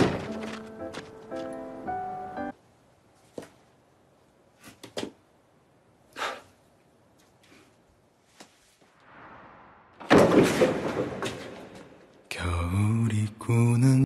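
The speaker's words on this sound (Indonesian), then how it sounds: "secara bersama-sama mereka menggedor pintu" Scattered dull thuds and knocks of people banging on a door, irregular and mid-distance, between stretches of near silence, with music and other sound at the start and end.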